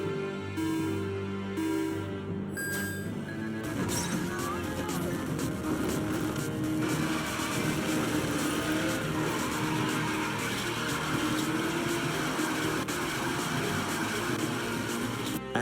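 Steady engine roar and road noise from a car racing at high speed in the Midnight Motorist minigame, continuous and fairly loud, with someone talking over it.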